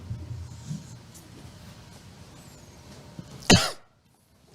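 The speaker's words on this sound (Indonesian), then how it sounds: "Ya, itu batuk." A single sharp cough rings out near the end of an Islamic lecture, after a quiet stretch of low room noise.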